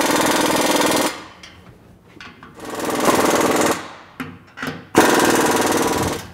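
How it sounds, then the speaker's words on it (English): An Ingersoll Rand 2115 TiMax 3/8-inch air impact gun working on a muffler job hammers loud and close in three long sustained bursts, with quieter clatter and short blips in the gaps between them. "I've just used the Ingersoll Rand 2115 TiMax 3/8 inch impact gun to do this muffler job"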